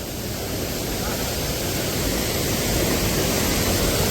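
A forest stream flows strongly near a jungle temple, giving a loud, dense, unbroken rush of water that fills the whole moment without any talking.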